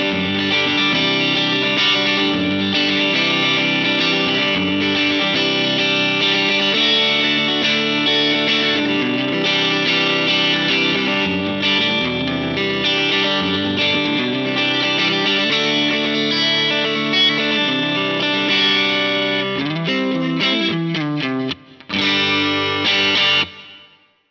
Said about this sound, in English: I'll use a plate reverb.